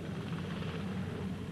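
Helicopter flying over open terrain during an aerial uranium survey, its rotor and engine giving a steady, continuous drone at even loudness throughout.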